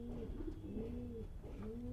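Racing pigeons from the second race coo steadily up close, their low, rolling calls overlapping and repeating without pause over a constant background hum.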